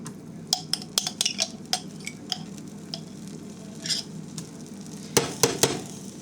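Garlic sizzles faintly in a pan with shrimp as a metal spoon stirs and clinks against the pan in sharp, irregular knocks over a soft, steady frying hiss.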